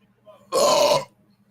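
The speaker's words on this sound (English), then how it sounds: "burp number 1 of the night." A single loud, gravelly human burp lasting about half a second, close to the microphone and alone in near silence.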